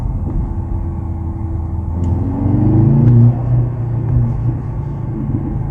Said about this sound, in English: And let's listen. I will put it in the classic mode.